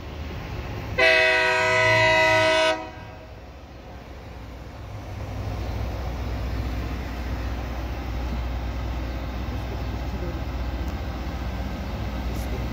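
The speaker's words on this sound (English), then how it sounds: "a train is coming right now" A Loram rail grinding train passing on tracks in Waxhaw, North Carolina, seen from a bridge: a loud horn blast of about two seconds, then a steady, heavy rumble and grinding roar as the train rolls by close.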